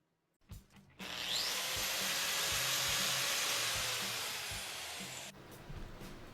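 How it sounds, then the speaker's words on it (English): A grinder that has just been repaired starts up and runs with a loud, steady whirring hum for several seconds, then winds down abruptly. "I was able to get the parts I need in order to repair my grinder"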